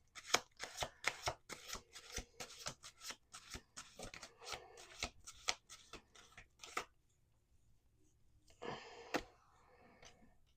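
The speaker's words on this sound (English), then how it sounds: "We're going to do 2 more shuffles." Tarot cards are shuffled by hand at close range, a quick run of soft riffling and slapping strokes, a pause, then a shorter second burst of shuffling, all quiet.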